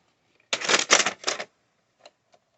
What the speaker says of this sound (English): Let's put a tape in.